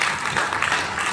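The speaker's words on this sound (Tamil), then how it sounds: "ஐயா ஒரு பலத்த கைத்தட்டு கொடுங்க." An audience at the 44th Tamil Nadu Book Fair applauds a speaker, giving a steady, dense burst of clapping across a large crowd.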